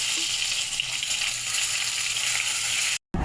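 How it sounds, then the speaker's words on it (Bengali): Bitter gourd fries in hot oil while being browned, giving a loud, steady sizzle that holds evenly before cutting off abruptly near the end. "এবার উচ্ছেগুলো ভেজে নেবো একটু লাল করে।"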